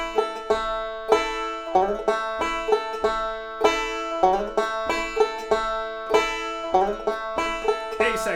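Melodic-style banjo plays the fiddle tune Salt Creek at a slow, even tempo, a steady run of bright plucked notes with sharp attacks, close and clear with no talking.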